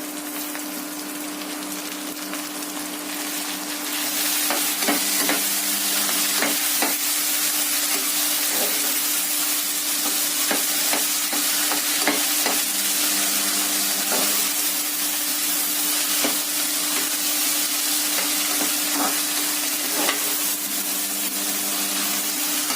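Green chillies and tomato sizzle steadily in a pan for moong dal bath, a continuous hiss punctuated by scattered scraping stirs, loud and close, with no voices.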